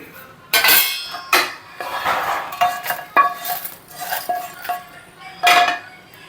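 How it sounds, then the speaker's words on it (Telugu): Roasted, cooled spices for pulihora powder are tipped into a mixer jar, giving a series of loud clinks and clatters of dishes and a spoon against the jar, with rattling bursts spread irregularly across the clip and no talk. "ఇలా ఇవన్నీ చల్లారిన తర్వాత మనం ఒక మిక్సీ జార్లోకి వీటన్నిటిని వేసుకోవాలి"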